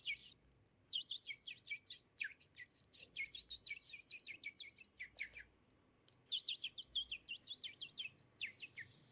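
A voice imitates many birds calling together, producing rapid high chirps and tweets in dense bursts with a brief pause between them, close and clear.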